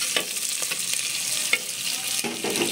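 Garlic and onion sautéing in a clay pot, a bright steady sizzle with occasional scrapes and stirs close by, no talking.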